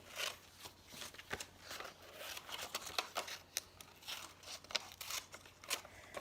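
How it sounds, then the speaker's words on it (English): Scissors snip out paper squares and rectangles in quick, crisp, close cuts, a rapid irregular series of faint snips over a quiet background. "I'm gonna take some scissors."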